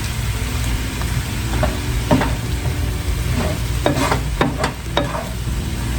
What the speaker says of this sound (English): And we're just gonna let this cabbage cook down.